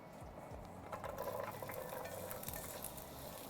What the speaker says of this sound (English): Squash dropped in, sizzles right away.